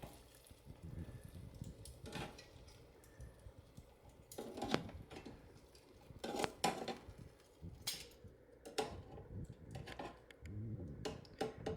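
Chicken wings are flipped in a metal air fryer basket: a run of irregular clinks, clatters and scrapes up close, louder clustered knocks in the middle, over a low steady background hum.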